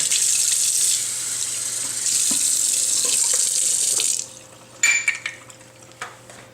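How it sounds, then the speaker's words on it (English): Water from a kitchen sink faucet runs steadily as a measuring cup is rinsed out, then shuts off, followed by a few light knocks and clinks of the cup. "Wash the cup back out."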